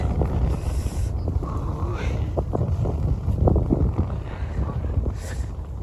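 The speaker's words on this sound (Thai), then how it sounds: "ลมแรงลมแรง" Strong cold wind buffets the microphone outdoors in a steady, roaring rush, with a voice speaking faintly underneath.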